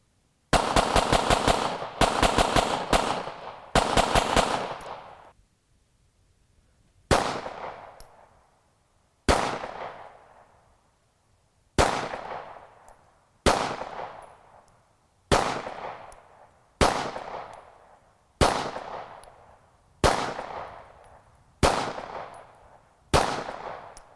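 A Hudson H9 handgun fires loud, close shots: a quick rapid burst of roughly a dozen rounds, then about ten slower single shots spaced evenly with brief ringing decay between each.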